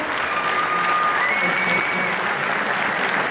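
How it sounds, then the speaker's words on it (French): Loud, dense audience applause at a King of Fighters XIII tournament final fills the space, a steady wash of clapping for a few seconds. "on applaudit bien fort"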